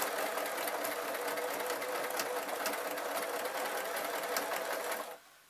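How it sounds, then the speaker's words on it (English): A sewing machine runs a line of stitches through fabric folded over three times while making a sleeping mask: a steady, close mechanical whir with no talk, stopping abruptly near the end. "I'm just going to do a line of stitches"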